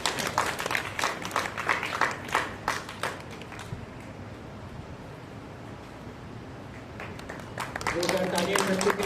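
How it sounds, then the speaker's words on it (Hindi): At a school board results celebration, an audience claps for top-scoring students in a burst of applause that fades to a quiet lull before a voice speaks over a microphone. "जोरदार तालियां बच्चों के लिए।"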